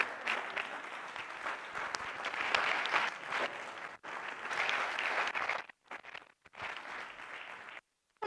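Audience applause at a political event on education, steady clapping from a crowd for about five seconds, then fading into short bursts and brief pauses before silence.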